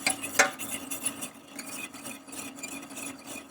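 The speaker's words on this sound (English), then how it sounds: "Make sure we stir it to prevent it from getting lumpy." A spoon stirs a dissolved mixture into boiling orange juice in a pot, giving a soft continuous scraping and swishing with one sharp clink near the start, fairly quiet and close.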